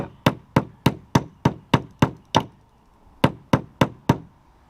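Hammer blows driving nails into wooden chicken coop siding: eight sharp, evenly spaced knocks, a brief pause, then four more, loud and close with no talking.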